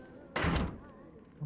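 A single sharp door slam in the Outlast 2 video game, a loud, brief impact with a short booming tail, set against quiet game ambience.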